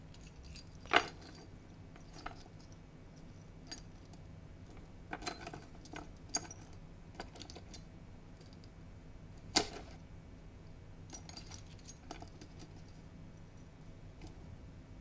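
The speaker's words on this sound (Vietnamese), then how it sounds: "Cô nhìn hai chìa khóa này, xem là thật hay giả." Metal keys jangle and clink in sporadic bursts, with a few sharper knocks standing out over a quiet room background, no talking.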